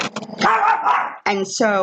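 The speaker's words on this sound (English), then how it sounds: "excuse my dog, please" A dog barks at a mail carrier outside, giving a few sharp, close barks and yips that interrupt and overlap a person speaking indoors.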